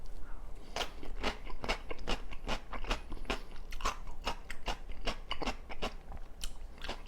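Crisp, juicy crunching of a firm vegetable being chewed up close, bite after bite in a steady rhythm, with no voices.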